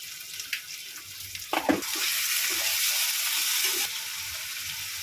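Shrimp and chopped onion fry in a hot pan with a steady, close hiss that swells and holds loud, broken by a few clattering stirs near the start.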